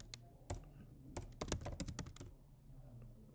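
Typing on a computer keyboard while setting up a blog, heard as a burst of quick clustered key clicks in the middle, with sparse single taps before and after, close and fairly quiet with no talking.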